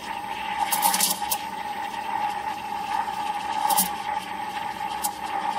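Espresso machine steam wand frothing milk for a latte, a steady hiss and gurgle with a sustained mid tone and a few sharp bursts of spray, heard up close.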